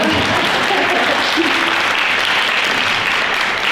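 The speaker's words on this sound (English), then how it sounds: "You deserve to clap for that." Seniors' club celebration audience clapping steadily and loudly throughout, dense sustained applause with a few faint voices murmuring underneath.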